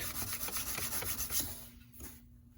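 Sandpaper rubbed back and forth across the flat of a knife blade during refinishing, a steady rhythmic rasping of quick strokes that fades to a final few rubs and stops.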